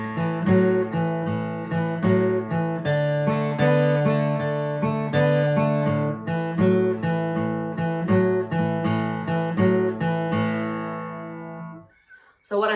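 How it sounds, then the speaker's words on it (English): Acoustic blues guitar lays down a walking, shuffling rhythm pattern. Strummed and picked notes bounce along steadily and close up for about twelve seconds, then cut off into a short quiet tail. "what I'm picking out there is like a walking kind of shuffly pattern"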